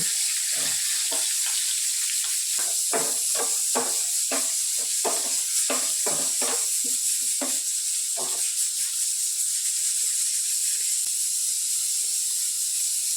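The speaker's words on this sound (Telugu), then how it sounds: "పచ్చిమిరపకాయ వేసుకున్నా ఉల్లిపాయలు వేస్తున్నా" Green chillies and onions sizzle in hot oil in a pan, a steady close hiss with crackling pops through the first half that thins to a quieter, even fry.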